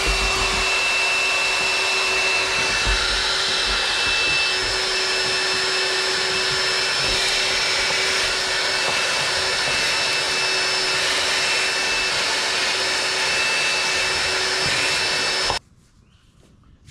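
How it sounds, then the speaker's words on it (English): A cordless vacuum cleaner whines at a constant, loud pitch for around fifteen seconds inside a 2005 Kodiak C4500 truck before switching off. "I'm gonna use it right now to vacuum out the truck."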